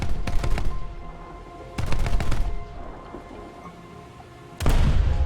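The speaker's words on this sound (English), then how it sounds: "these are the machine guns" A Blenheim bomber's machine guns in the War Thunder air combat game fire in three rapid, loud bursts of crackling shots, separated by quieter gaps of engine hum.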